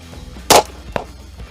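A single loud 9mm pistol shot strikes a $150 bulletproof steel plate, a sharp broadband crack followed moments later by a fainter metallic impact, with no talk.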